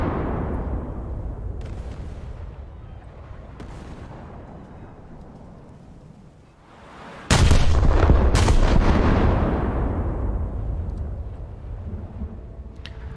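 Heavy naval gunfire from a German cruiser's 11-inch guns in a naval video game: booming salvos with long rumbling decay, a few lighter shots early, then a much louder double blast midway that rolls on.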